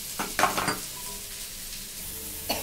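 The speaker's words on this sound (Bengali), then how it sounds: "আমি সেই সব সবজিগুলো আর বাদামগুলো দেখো ছেড়ে দিয়েছি।" Flattened rice with vegetables and nuts frying in ghee in a pan for a vegetarian chira pulao, giving a soft steady sizzle broken by a few stirring scrapes, close and fairly quiet with no talk.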